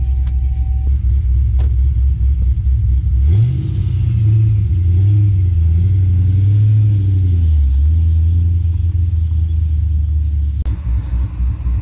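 A Cadillac CTS-V that sat unused for about two years drives down the road, its engine a loud steady rumble close by that rises and falls as it revs through gears.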